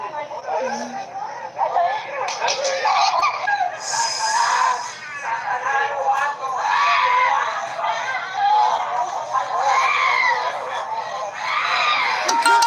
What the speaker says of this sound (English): screams can be heard coming from her neighbor's apartment